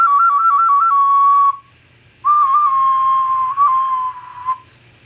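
A homemade ocarina, played without the thumb or sub holes, gives breathy, flute-like wavering high notes in two phrases with a short gap between, close and fairly loud, with no voices.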